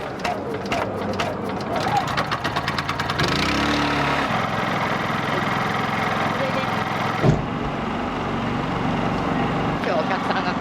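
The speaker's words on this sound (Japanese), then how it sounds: "エンジンかけます。" An engine, likely a food vendor's vehicle, starts up amid background chatter and settles into a steady idle that continues under voices for several seconds.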